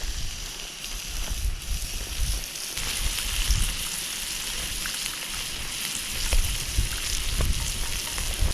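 Steak frying in a pan on a Trangia camping stove outdoors in Scotland, a steady close sizzle with crackling pops running throughout, no talking.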